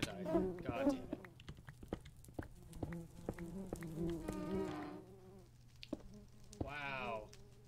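Buzzing of swarming bees in the video game Minecraft, a droning hum running under excited talk and game noises, with a rising whirring sweep near the end.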